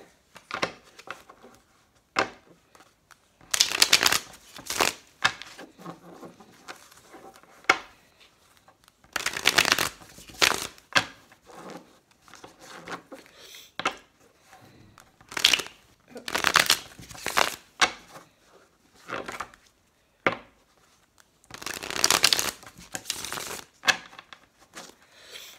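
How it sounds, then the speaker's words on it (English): Tarot cards being shuffled by hand, several separate bursts of riffling and crisp card flutter with quiet gaps between them, close and clear. "So I'm going to shuffle these 5 times first."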